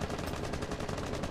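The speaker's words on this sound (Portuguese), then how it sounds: "O cara deu um tiro." Rapid bursts of gunfire in Rainbow Six Siege crackle in a fast, even rhythm, a continuous stream of shots with no voices.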